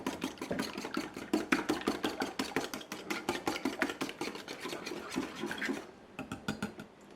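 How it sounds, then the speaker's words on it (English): An egg is whisked briskly with wet ingredients in a bowl for cinnamon roll biscuits, making a fast, even run of rhythmic clicks and scrapes close by that stops near the end. "I'm just going to whisk those all together."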